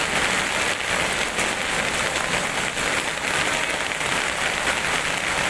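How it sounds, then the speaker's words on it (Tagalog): Heavy typhoon rain pours down in Metro Manila, a loud dense hiss of drops on surfaces that stays constant and close throughout, with no voices. "grabe talagang ulan at tubig ang dala po nito bagyong si Karina"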